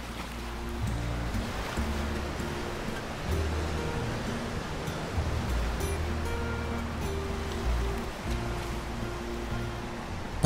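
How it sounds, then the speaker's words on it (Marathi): Sea waves wash continuously along the quiet, sandy Samindar beach in Konkan, a soft, even surf hiss with slow swells, overlaid by sustained melodic tones like background music. "तळ दिसणारा तुलनेने निर्जन असा निसर्ग सुंदर सागर किनारा"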